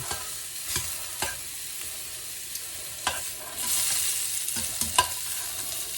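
Mushrooms searing in a hot pan, a steady low sizzle with occasional sharp clinks and scrapes of stirring, close and moderately quiet, with no talking.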